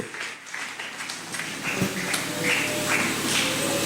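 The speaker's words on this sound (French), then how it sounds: "Applaudissons encore pour notre Seigneur Jésus-Christ." Applause from a church congregation during a French-language worship service, a steady broadband patter of many hands building and holding through the clip.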